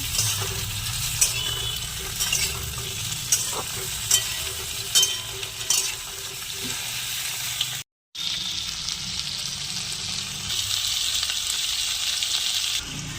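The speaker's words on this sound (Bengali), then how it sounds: "তারপর টমেটো কটা দিয়ে দিতে হবে, ভালো করে নাড়তে হবে।" Chopped tomatoes frying in a pan, with a steady sizzle under regular scraping and clinking spatula strokes, close by, then a brief dropout before the frying continues more evenly.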